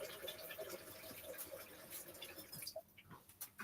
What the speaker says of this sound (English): let's add some water in this so we don't get this all dried up in the blender